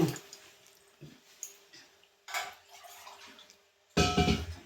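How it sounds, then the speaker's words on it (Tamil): Water from a mixer jar is poured into a pan of crab masala curry in a home kitchen, heard as short splashy pours broken by pauses and ending in a louder final gush. "நம்ம அந்த மிக்சிக்கில் உள்ள தண்ணி அதெல்லாம் இப்படி ஊற்றி இது கொதிக்க வேணும்"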